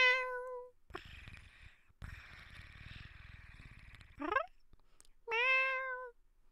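A voice imitates a cat with two drawn-out meows, one at the start and one near the end, separated by low rumbling noise and a brief squeaky sweep.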